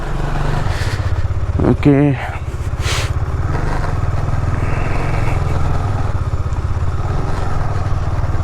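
A KTM Duke 250 motorcycle idles with a steady, throbbing low engine note while loaded with luggage, running continuously beneath someone talking nearby, with a brief clatter partway through.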